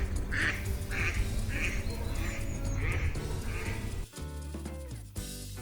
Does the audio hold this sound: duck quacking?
yes